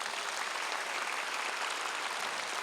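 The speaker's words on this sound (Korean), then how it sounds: "다시 한번 순국선열 유족들에게 감사의 박수를 보내요." Crowd applause at an outdoor prayer rally for peaceful reunification at the War Memorial's Peace Plaza in Yongsan, Seoul: a continuous, even wash of many hands clapping, heard from a distance and fairly quiet.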